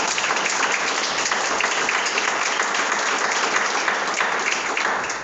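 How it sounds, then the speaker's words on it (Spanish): A church congregation applauds in a dense, steady wash of many hands clapping, loud and sustained throughout without pause. "Es un aplauso al Señor"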